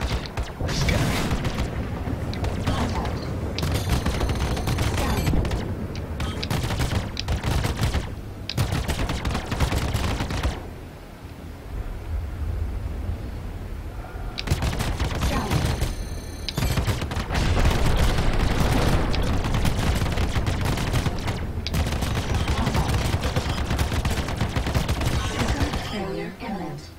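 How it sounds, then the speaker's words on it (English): Spaceship wing cannons fire in the space-combat game Star Citizen: long, loud, rapid-fire volleys of blasts with a short lull in the middle before the barrage resumes. "Almost had to overheat my wing cannons to do it."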